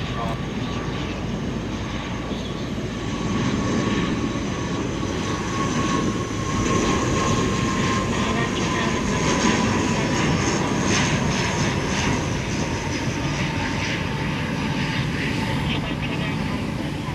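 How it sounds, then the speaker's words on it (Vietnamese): An airliner roars steadily through gusty wind as it lands at Tan Son Nhat airport, a broad continuous engine rumble with fluttering wind noise, moderately loud and unbroken. "gió mạnh đến nỗi mà chiếc máy bay đáp mà còn phải nhấc lên một đoạn thì bắt đầu mới hạ cánh mà còn nghiêng nghiêng nữa cơ"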